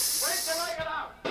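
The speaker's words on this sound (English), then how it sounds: "Sounds like steam escaping." Steam escapes with a steady, broad hiss in a 1974 Western comedy film scene, running under a voice before briefly thinning and returning.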